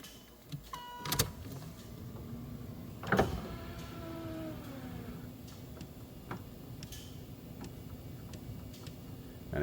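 Power window motor on a 1982 Camaro/Firebird door rolling the glass down, a faint whirring hum with a couple of sharp clicks and knocks near the start, then continuing quietly.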